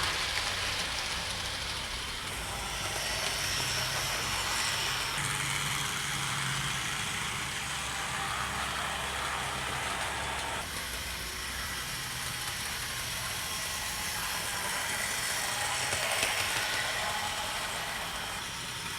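A Hornby Thomas the Tank Engine model train runs steadily on its track, a continuous smooth whirring hum with faint rhythmic clicking, close and even throughout.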